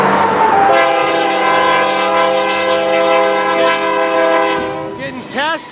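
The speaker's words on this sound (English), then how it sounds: "getting passed from the back by a stack train" Long double-stack freight train passing from behind on open rural track, its horn blaring a loud sustained chord for several seconds at close range, then fading into rumbling railcar noise with a brief rising whine at the end.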